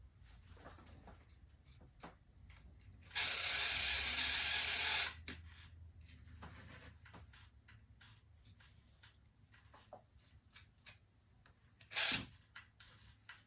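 Brushless slot car chassis motor spinning up in a burst of high whirring lasting about two seconds, followed by a quieter whir and a short final buzz, separated by small clicks and handling noises.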